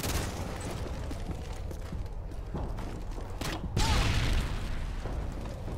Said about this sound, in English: two explosions.